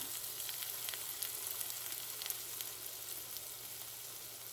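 Pieces of homemade banana pie frying in a pan of oil, giving a soft, even sizzle with light crackles that carries on steadily for a few seconds, quiet and with no voices.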